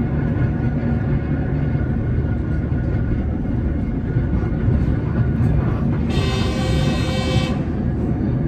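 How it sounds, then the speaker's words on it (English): A Camrail train in Cameroon rumbles loudly and continuously, with a deep, steady roar and rattling, joined near the end by a brief high-pitched squeal. "The train was noisy,"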